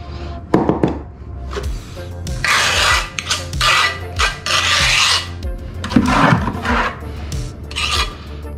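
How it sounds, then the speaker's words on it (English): A power sander easing the edge of a marble threshold during a bathroom install, giving repeated loud rasping bursts of grinding against stone, each lasting about a second, separated by brief pauses. "I'm just going to ease this edge right now with my sander"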